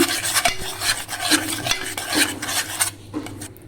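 Curd stirred into mushroom curry in a pan, a steady scraping and swishing with soft sizzling underneath and a few brief metallic clinks, close and fairly loud throughout.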